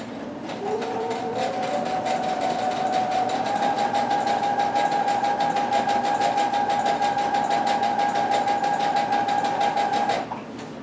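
Sewing machine running steadily for about ten seconds, stitching a seam along the edge of a fabric Batman cape, a continuous close whirring hum that stops abruptly near the end.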